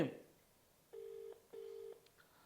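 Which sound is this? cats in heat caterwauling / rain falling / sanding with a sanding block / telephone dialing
telephone dialing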